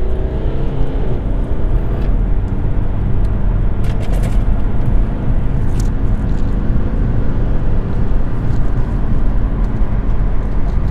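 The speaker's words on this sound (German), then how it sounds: "Gib mal ein bisschen Gas hier." A BMW accelerates on the road, heard from inside as a loud, continuous engine and road rumble that holds steady throughout, with no speech over it.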